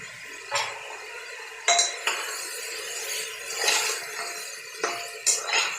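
Dry spices being stirred in a cooking pan with a metal spoon, producing several sharp scraping clinks at irregular intervals over a quiet background.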